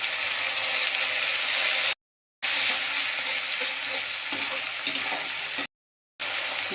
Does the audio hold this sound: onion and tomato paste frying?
yes